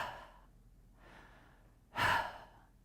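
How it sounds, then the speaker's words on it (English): A forceful exhale pushed out through the mouth during a Pilates breathing exercise, a single loud breathy burst after two softer breaths, close and with no talk. "pull your navel point out and forcefully exhale out your mouth like this"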